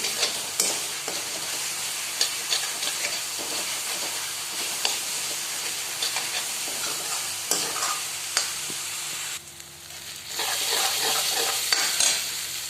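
Onion and garlic sizzle steadily in hot oil in a pan for a chickpea curry, a continuous close hiss with small crackles and stirring scrapes, no voices.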